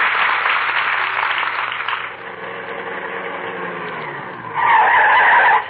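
A radio-show sound effect of a car skidding with bad brakes: a long shrill tire squeal that fades into a lower grinding slide, then a second sharp screech near the end, loud and alone.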